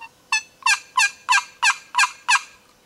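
A scratch box turkey call is worked high and hard to imitate a young hen, giving seven sharp, evenly spaced yelps in a steady rhythm, close and clear with no talking.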